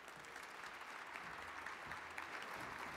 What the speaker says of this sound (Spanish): Fuerte el aplauso para nuestro secretario general por su mensaje